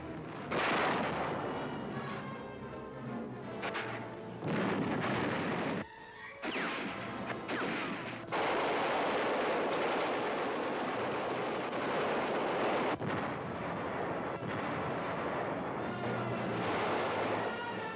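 Heavy artillery and mortar barrage pounding Heartbreak Ridge in Korean War newsreel footage, with dense continuous booming and rumbling, a few brief breaks and a sharp blast, loud and sustained throughout without speech.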